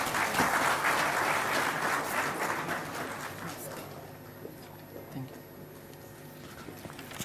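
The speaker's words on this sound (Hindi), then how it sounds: "एक बार जोरदार तालियां" Burst of crowd applause at an award ceremony, loud at first and gradually fading out over several seconds into quiet room noise.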